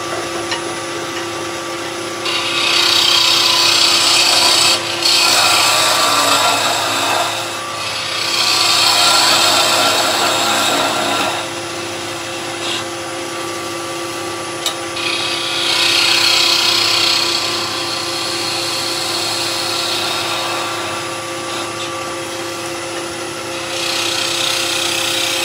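A skew chisel cutting wood spinning on a lathe while turning a fishing lure: a steady, loud hissing scrape that swells and eases in long passes over the constant hum of the machine.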